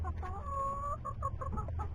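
Backyard chickens clucking close by, several short harmonic calls in a steady series with one longer drawn-out cluck, set over a constant low hum.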